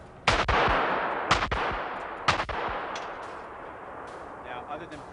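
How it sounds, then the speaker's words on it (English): Three loud, sharp gunshots ring out about a second apart, each trailing off into echo, followed by quieter distant pops, from a film set. "Gunfire!"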